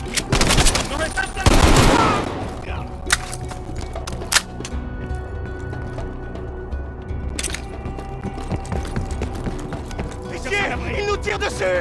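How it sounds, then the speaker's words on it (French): Bursts of automatic gunfire in Call of Duty Black Ops Cold War, with a loud volley early on and scattered shots and rattles afterward, mixed with game sound effects and shouted voices. "Il nous tire dessus!"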